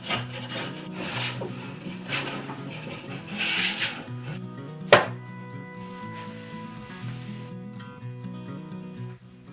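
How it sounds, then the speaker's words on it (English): A wooden workbench top is flattened by hand, with rhythmic rasping strokes of a hand plane or rasp on wood at close range, four or five scraping passes followed by a sharp knock and quieter scraping. "I'm going to be flattening one side of my workbench"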